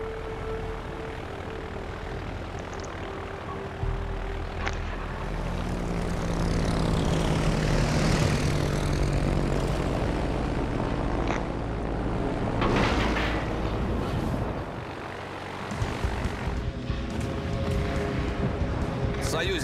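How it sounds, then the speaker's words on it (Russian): A propeller fighter plane takes off in World of Warships: Legends, its engine droning and rising in pitch as it climbs away, loud beneath radio-style voice lines and battle ambience. "Истребитель взлет произвел."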